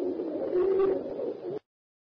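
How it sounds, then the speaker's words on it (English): A pigeon coos close up in a soft, throaty, continuous warble for about a second and a half, then cuts off to silence. "Pigeon."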